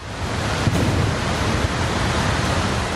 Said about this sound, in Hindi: जहां नदी अपने शबाब पर है। कल कल की जगह डरावनी आवाज सुनाई दे रही है।